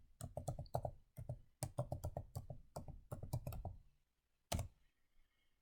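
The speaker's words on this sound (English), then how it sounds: "open the browser and type Fipgrid.com" Keys on a computer keyboard are typed in quick clustered bursts of crisp clicks, close and fairly quiet, pausing briefly before a single last keystroke.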